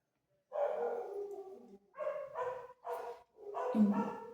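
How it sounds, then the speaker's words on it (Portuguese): The neighbour's dogs bark and yelp in several rough, drawn-out bursts, a few seconds apart, sounding somewhat distant and muffled with no one speaking. "os cachorros do vizinho começaram a latir agora"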